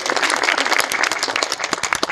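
Dense, continuous applause from an audience at a literary museum opening ceremony, a steady wash of many hands clapping close and loud throughout with no pauses.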